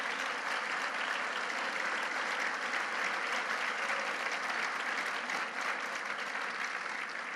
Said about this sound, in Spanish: Si le va a aplaudir, apláudale fuerte